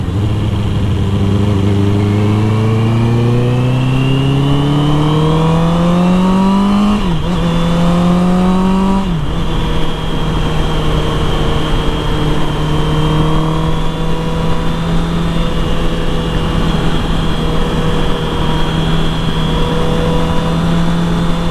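A loud Honda CBR650R motorcycle with an Akrapovic exhaust revs up through two climbing pulls, drops back, then holds a deep, throaty drone close by.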